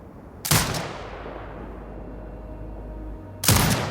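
Turret gunfire in the video game Sniper Ghost Warrior Contracts 2: two loud, heavy blasts about three seconds apart, each trailing off in a long, low, rumbling echo.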